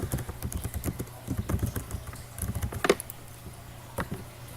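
Typing on a computer keyboard while entering a search topic, quick bursts of close, light key clicks in an uneven rhythm, pausing briefly and then resuming with a few scattered taps, with no voices.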